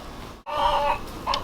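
Chickens clucking in a chicken run, a brief loud cluck series near the mic after a short silence, followed by another quick squawk.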